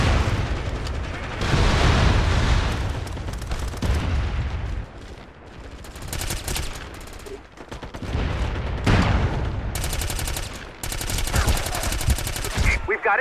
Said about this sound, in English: Got incoming artillery fire.